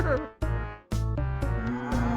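Cow from the video game American McGee's Grimm mooing in several loud, close, drawn-out lows separated by brief pauses, heard alone.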